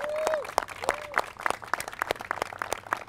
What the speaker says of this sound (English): Can we ask for a big round of applause for Brad Richter?